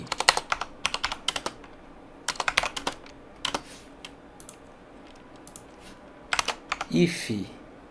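Fingers type on a computer keyboard in quick clustered bursts of sharp clicks separated by pauses, close and clear, with a brief muffled voice near the end.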